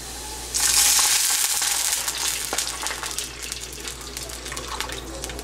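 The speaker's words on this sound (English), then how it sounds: "Now I'm going to pour glass full of water." Water from a glass poured into a pan of browned onions while cooking garlic rasam, a loud splashing pour at first that settles into a steady sizzle and bubbling, with no talking.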